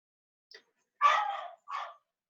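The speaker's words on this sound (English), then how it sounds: "Can you hear my dog in the background?" A dog barks a few times in the background, one short yip followed by two louder barks, distant and faint in an otherwise quiet room.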